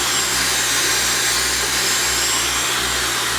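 A Dyson Supersonic hair dryer blows a steady, loud broadband rush of air with a faint hum underneath, continuous and close, with no talking.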